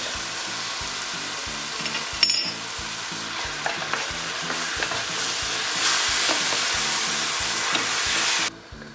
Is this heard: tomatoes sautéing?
yes